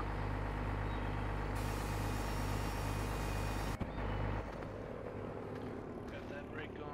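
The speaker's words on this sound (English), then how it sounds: "fixed the sound on the truck so it wasn't so loud." A truck engine in Farming Simulator 2015 drones low and steadily, then a sharp click cuts the sound and it drops to a quieter idle with faint talking.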